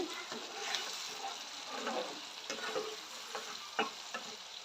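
Fish and a small splash of water going into a hot pan for a Bengali fish dish, giving a steady sizzle with scattered stirring scrapes and clicks, moderately close and fairly quiet.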